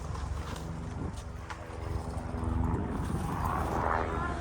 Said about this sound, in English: I'll talk about another meme coin once this helicopter goes over.